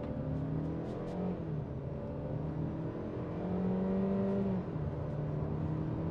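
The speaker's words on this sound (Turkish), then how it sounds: "Launch kontrol programı etkin dedi ve gidiyoruz." A Cupra Formentor SUV with a 1.5-litre engine pulls away hard on launch control, its engine droning and rising in pitch through gear changes, steady and close from inside the cabin.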